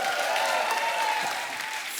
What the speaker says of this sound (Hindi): एक बार जोरदार ताली हो जाए मेरी।